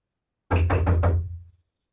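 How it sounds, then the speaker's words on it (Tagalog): Knocking on a door: four quick, loud raps in a tight, even burst, close and alone against silence. "May kumakatok."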